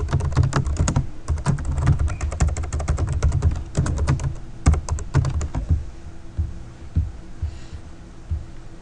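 Rapid bursts of keystrokes on a computer keyboard while code is typed, loud and close, with brief pauses between flurries and no voices.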